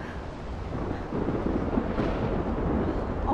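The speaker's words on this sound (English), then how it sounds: "Oh my lord! The tornado is back!" Tornado winds in the video game Life is Strange roar as a dense, continuous rumbling rush that grows slightly louder partway through, with no voices.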